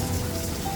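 Rain falls in a steady, dense wash of patter with no voices.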